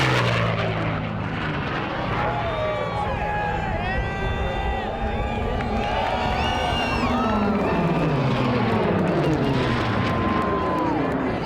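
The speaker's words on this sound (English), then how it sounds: "All the planes sound impressive here during race week" Loud, roaring propeller racing airplane engines, including Voodoo and Strega, at the 2017 National Championship Air Races, pitch sweeping up and down as planes pass, over a constant crowd and commentary voice.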